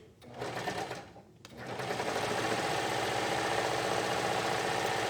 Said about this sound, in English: And now we're sewing down the other leg.